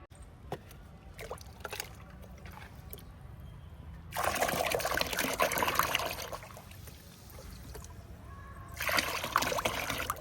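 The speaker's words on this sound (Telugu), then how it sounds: "ఇప్పుడు మనం దీన్ని వాటర్లో డైల్యూట్ చేసి ఇచ్చేద్దాం" Fermented aloe vera and banana fertilizer being diluted in water: two close bursts of pouring and splashing liquid, separated by quieter trickling and light handling noises.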